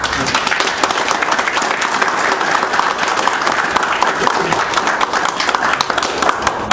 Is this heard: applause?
yes